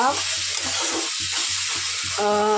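Crab masala paste of onion, garlic, ginger, dried chilli and cumin sizzles steadily in an oiled pan, a constant bright hiss with someone speaking over it.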